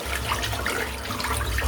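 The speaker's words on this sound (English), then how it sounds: "Now I'm going to rinse the brush out because I want to start fresh for my face shave" Shaving brush being rinsed under running water, a short burst of steady splashing flow that is fairly loud and close.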